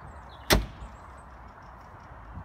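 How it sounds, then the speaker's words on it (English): A vehicle door slides shut with a single sharp thud, followed by a low steady hum of the idling vehicle. "And the door is meant to be shut."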